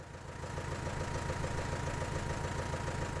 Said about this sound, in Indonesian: Mesin pengering portable seperti ini bisa mencegah panen terbuang.